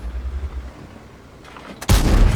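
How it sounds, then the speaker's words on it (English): Artillery shell striking a tank in World of Tanks, a sudden loud impact bursting in near the end after a quiet stretch with faint rumble. "Artillery stunning me."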